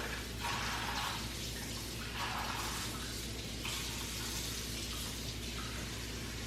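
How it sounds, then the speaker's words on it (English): Cold water runs steadily from a tap, with swelling splashes as pork pieces are rinsed under the stream, close by and continuous. "we're gonna rinse this off really well"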